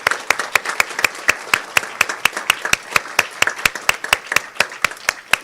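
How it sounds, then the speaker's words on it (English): Audience applause at an economics conference, a steady run of sharp, evenly spaced claps filling the room for several seconds without talk. "I just wanted to give them a round of applause."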